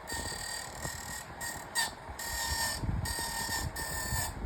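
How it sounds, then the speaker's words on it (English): A Seville Classics 12-inch tower fan runs with a continuous grinding, ratcheting mechanical rasp over a steady whirring drone, rising and dipping slightly in intensity. "Sounds like a grinder."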